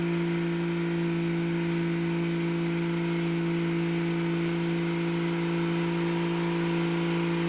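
Porsche 935 race car engine running on a dyno as load is added, a loud, sustained mechanical whine with a tone slowly climbing in pitch throughout, no voices.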